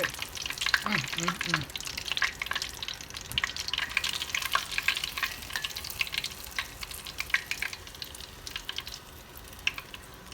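Spicy chicken for fried chicken sandwiches sizzles in hot grease in a frying pan. Dense, steady crackling and popping continue throughout and are heard up close. A faint voice murmurs briefly near the start.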